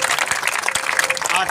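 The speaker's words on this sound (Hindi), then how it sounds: "जोरदार तालियों से स्वागत।" Crowd applause at a village ceremony honouring a political candidate with a turban, a dense patter of clapping heard under a loud amplified voice.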